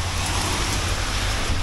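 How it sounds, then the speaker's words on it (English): Steady rain pours on a building site where brickwork is about to begin, a dense, loud broadband hiss that stays constant with no voices. "And it's still raining at the moment"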